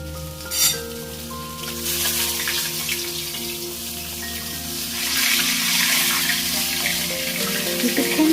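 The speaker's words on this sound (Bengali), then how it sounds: "মাছের মাথাগুলো বেশ ভালোভাবে ভাজা হয়ে গেছে" Katla fish heads fry in oil with cloves, a loud close hissing sizzle that swells and fades in waves, with a brief clatter near the start.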